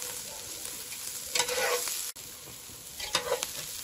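Onion sautéing in a little oil in a pan for fava bean patties in guajillo chile sauce, a steady soft sizzle with stirring scrapes, brief louder bursts of crackle and a short pause midway.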